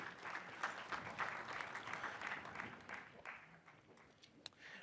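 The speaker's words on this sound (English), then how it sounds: "Round of applause one more time" Crowd applause at a press conference ahead of the Super Bowl halftime show, dense clapping heard faint and distant throughout without a break.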